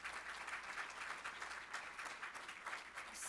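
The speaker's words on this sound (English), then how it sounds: "let us give you a round of applause" Audience at a fall 2014 cybersecurity summit claps steadily for a platinum sponsor's vice president, a dense, even patter of applause heard from within the room, fairly quiet and without talk.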